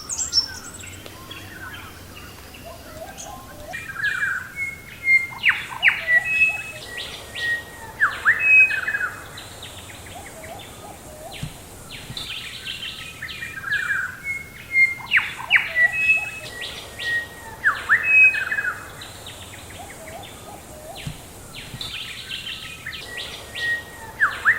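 Loud, harsh noisy friarbird calls ring out in repeated bursts over a quiet woodland background, with chirps and squawks coming and going throughout.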